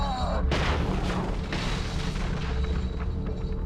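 A gun fires in the survival horror game The Evil Within, with a sharp loud blast followed by booming reverberant rumble and other heavy impacts under a dense, noisy background.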